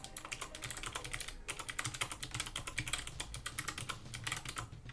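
Rapid, continuous clicking of a computer keyboard during typing, close and steady across the whole stretch, with no voices.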